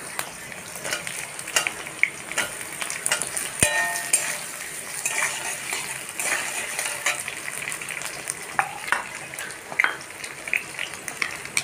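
Pumpkin and carrot pieces frying lightly in a pan, a steady close sizzle with occasional stirring clinks and scrapes, no voices.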